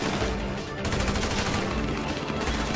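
Dense bursts of gunfire in Grand Theft Auto V sound loud and continuous, with rapid overlapping shots and a busy game soundscape.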